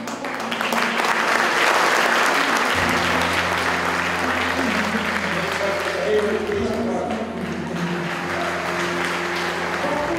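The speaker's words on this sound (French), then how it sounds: "sous les applaudissements nourris de la salle" Sustained applause from an award ceremony audience, many hands clapping densely and loudly for about ten seconds, with a voice talking over the clapping.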